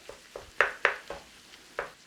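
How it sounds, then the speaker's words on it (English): Lamb for shepherd's pie cooks in a pan as a spoon stirs it, giving a faint sizzle broken by several sharp scraping knocks at an uneven pace, close by. "Get the lamb in and start cooking it down together."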